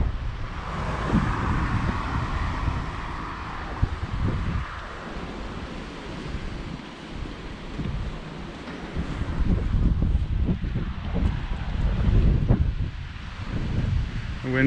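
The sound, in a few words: wind picking up outdoors in Magaluf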